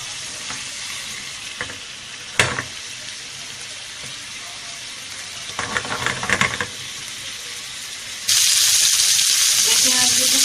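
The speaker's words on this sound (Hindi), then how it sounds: "चिकन सब्जी को हम बिल्कुल हल्की आंच पे बना रहे हैं ताकि ये इसका जूस निकले टमाटर वगैरह का" Chicken sajji with tomatoes cooking slowly over low heat, a steady close hiss of simmering juices with a few utensil scrapes midway and a louder, brighter sizzle swelling near the end.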